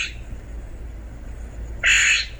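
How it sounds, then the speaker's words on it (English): A large, bold blue songbird with a frosted white forehead gives a single loud, harsh, buzzy call near the end, after a brief faint note and a quiet background. "There it is, our slightly less than melodic mystery bird, a bold and curious large songbird"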